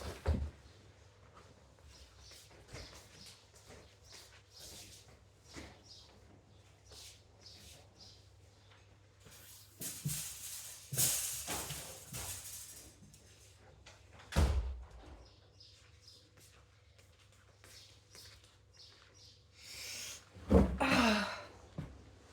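A window shutter being closed indoors, heard as a few scattered thumps and a scraping rattle near the end, with faint birdsong outside and quiet surroundings in between.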